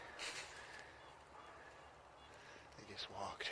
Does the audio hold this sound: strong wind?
no